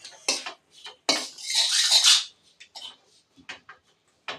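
A cooking pot holding powdered drumstick-leaf mix with ghee is lifted off the stove and set down, giving a few close metallic clanks and scrapes followed by a brief rattle of utensils.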